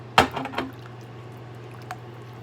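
Loose pasta sauce poured into a pan on medium-low heat, a short wet splash and slosh at the start followed by quieter settling and a faint drip, close and alone.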